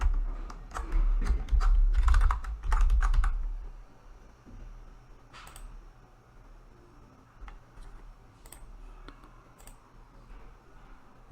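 Rapid bursts of computer keyboard typing while entering a password, close and crisp clicks for the first few seconds, then sparse isolated key taps over quiet room noise.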